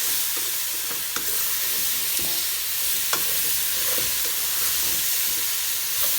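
An aubergine, potato and tomato dish is stirred in a sizzling pan, with a spoon scraping and clicking against the metal a few times over steady frying noise.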